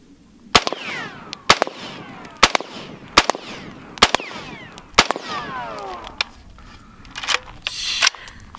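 Around eight sharp, loud AR-15 shots with 5.56 rounds fire at a sewer lid at an uneven pace outdoors, each crack followed by a brief, falling metallic ring from the struck lid.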